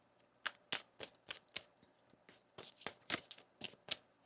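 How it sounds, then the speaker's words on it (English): Quick riffles and soft slaps of a tarot deck being shuffled, a run of crisp bursts close by with no talking. "One more shuffle here."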